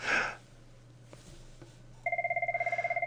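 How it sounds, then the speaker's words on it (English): A telephone rings with a rapid electronic trill in quick repeating pulses. It is loud and close and follows a short burst of noise and a few faint knocks over a steady low hum. "excuse all these phones ringing here"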